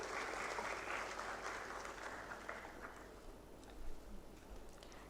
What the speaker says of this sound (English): Please give a huge round of applause for our chief guest.